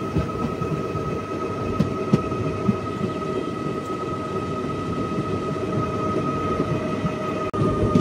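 Andaman Express (train 16031, Chennai to Katra) rumbling steadily along the rails, a continuous loud rolling drone with tonal hum and occasional clanks as the train slows, no voices.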